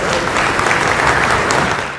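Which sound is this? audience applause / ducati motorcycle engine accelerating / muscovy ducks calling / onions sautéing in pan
audience applause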